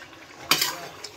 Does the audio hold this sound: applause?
no